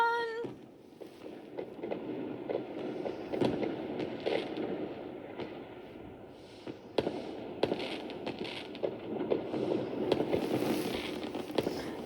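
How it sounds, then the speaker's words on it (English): Fourth of July fireworks bursting outdoors, a run of sharp cracks and booms over a steady crowd-like murmur, with louder clustered pops toward the end. "look at all the fireworks, everybody!"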